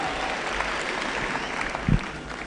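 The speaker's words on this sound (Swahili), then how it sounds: "Come on, let's put our hands together for them." A conference audience at a church gathering in Kenya applauds a praise team, a steady, moderately loud wash of clapping with one brief louder thump near the end.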